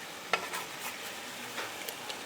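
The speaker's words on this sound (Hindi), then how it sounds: "हमें चिकन को तुरंत नहीं पलटना, थोड़ा सीजल होने देना है।" Chicken pieces sizzle in a pan over high heat, a soft steady frying hiss with a few faint clicks and stirring scrapes, quiet and close with no talking.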